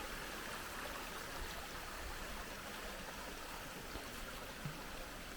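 A creek runs high after rain, with a steady, faint broadband rush of water flowing continuously throughout, no voices.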